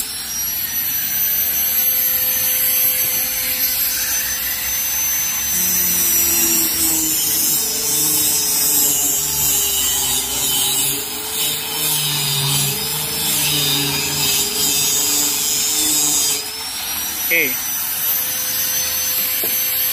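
A power tool cuts PVC paneling for a table, a loud steady high-pitched whine that runs continuously with slight pitch shifts and no talking.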